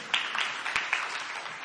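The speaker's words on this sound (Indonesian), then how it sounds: "Tepuk tangan yang meriah begitu" Brief, moderately faint burst of applause from a church congregation at a revival service, a few sharper claps standing out near the start.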